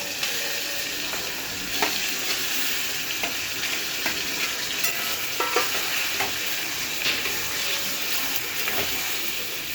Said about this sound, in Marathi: अर्धा चमचा हळद, 1 चमचा मसाला, मिरची पावडर घालायची आहे आणि त्यामध्ये ही तेलामध्ये परतायची आहे सुरमईची.